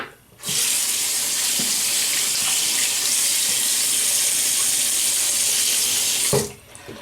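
A tap runs steadily into a sink to wet a razor, a loud, close, continuous gush that starts abruptly and cuts off after about six seconds, with no talking over it.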